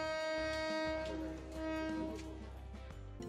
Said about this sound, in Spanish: Este silbido fuerte les advierte que el tren está en movimiento